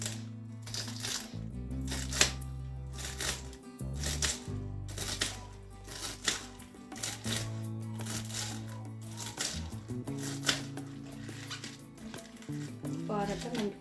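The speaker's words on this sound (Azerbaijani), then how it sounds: "göyərtimizi doğrayacağıq." Fresh washed herbs chopped with a knife on a board, a quick series of close, fairly quiet taps in irregular bursts over background music.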